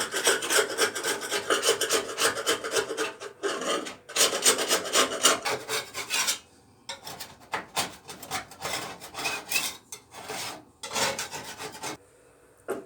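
A hand scraper rasps repeatedly across a car's rear panel, lifting softened paint stripper and old paint in loud, close strokes with brief pauses between bursts.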